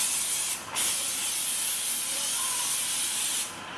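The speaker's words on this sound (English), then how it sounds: "Just with some olive oil spray." An olive oil spray can hisses onto a baking tray in a long continuous burst, with short breaks at the start and end, close and fairly loud.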